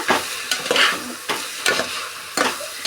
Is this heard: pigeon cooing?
no